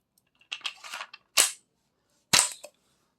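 A Pistelle X68 air pistol fires Grimburg V2 Juls rounds. One sharp, loud crack comes first, followed by a second crack about a second later, with some softer handling clicks before them.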